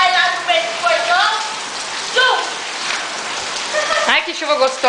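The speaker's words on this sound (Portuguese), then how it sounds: "Ai, que chuva gostosa, né?" Rain falls steadily on a swimming pool and garden, a continuous hiss of drops on water and grass close by, with people talking over it throughout.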